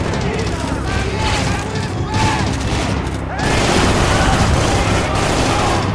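Dense bursts of gunfire and explosions from the video game Max Payne 3, loud and continuous with rapid overlapping shots and booms through the whole stretch.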